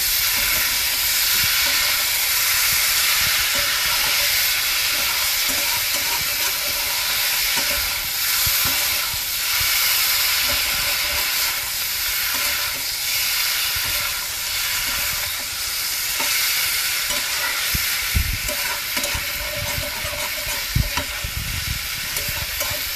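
Mushrooms fry in a spiced masala, giving a loud, continuous, close sizzling hiss with rhythmic stirring scrapes pulsing through it from start to finish.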